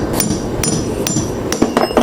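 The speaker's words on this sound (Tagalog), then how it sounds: "Paluin ng martilyo." A hammer strikes the shaft of an electric fan during repair with about six sharp metallic blows at an uneven pace, loud and close, and no voices.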